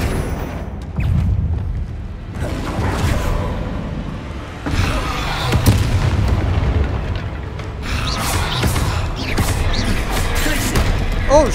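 Bombarda spell explosions in Hogwarts Legacy, a series of loud, heavy booms and crashing blasts rolling one after another in a dense, continuous barrage of battle noise.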